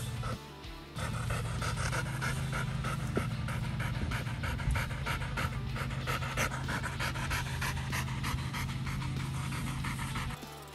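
A Belgian Malinois pants hard and rapidly after heavy exercise, a close, steady rhythm of quick breaths that carries on for about ten seconds with a faint background hum.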